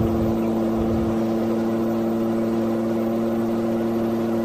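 Volvo N10 truck engine in Euro Truck Simulator 2 droning at speed, a steady low-pitched hum with strong engine harmonics, loud and even with no talk over it.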